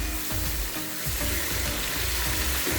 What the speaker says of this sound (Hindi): अभी इसमें चम्मच चला लेते हैं।